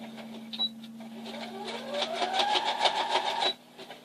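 A sewing machine back stitching the side seam of a toddler's skirt, running steadily with a rhythmic mechanical whir and clicking for a few seconds before stopping, close up, with no talking.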